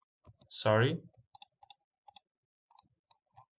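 Several sharp computer mouse clicks, made while working in SketchUp modeling software. They come singly and in quick pairs across the stretch, close and crisp, after a brief burst of speech near the start.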